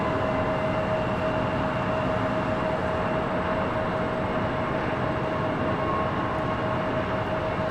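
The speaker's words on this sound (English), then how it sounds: "It's a Gulfstream" A Gulfstream G650ER business jet at Los Angeles International Airport gives a steady, continuous broadband roar with a faint constant whine, holding even loudness throughout with no voices.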